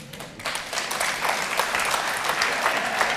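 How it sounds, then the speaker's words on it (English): A studio audience at a live political debate show in Stoke Newington breaks into applause, mostly women clapping, starting sparse then swelling into steady, moderately loud clapping with a little crowd murmur beneath. "these the women are clapping and the men are not"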